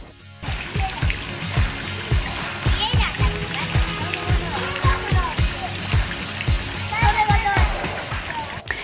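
Water spouts from elephant-statue trunks into a fountain at Seishoji temple in Tokyo, splashing and trickling in a steady, rhythmic patter, with voices chattering in the background.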